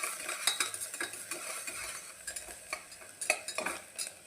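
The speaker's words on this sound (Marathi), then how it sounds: "तो छान असं मिक्स करून घेऊया" Finely chopped onion is stirred in a pan, a spoon scraping and clinking against the metal in quick repeated strokes over a soft sizzle, close and moderately loud with no voices.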